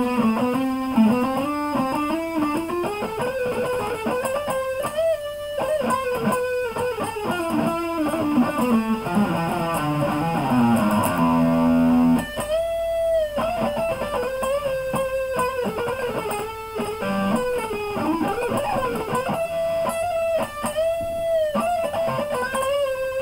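An electric guitar plays a solo with heavy distortion: fast, continuous lead lines with bends and runs, loud and upfront for over twenty seconds, with no talking.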